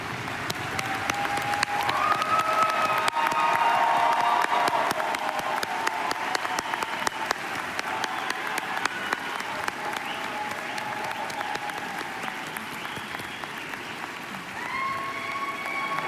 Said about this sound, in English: Graduates, please rise and give these groups a big round of applause in recognition of all of this support.